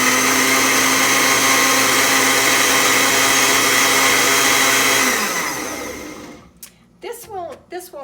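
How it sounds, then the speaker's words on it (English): A kitchen blender runs loud and steady while churning paper and water into a slurry, then winds down to a stop, and a voice starts talking once it falls quiet. "This won't hurt your blender, as long as you have plenty of water."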